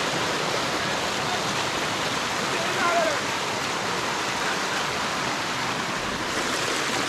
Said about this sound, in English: Another waterfall! A whole other waterfall!